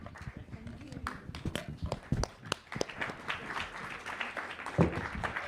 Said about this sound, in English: A round of applause for our distinguished panelists, please.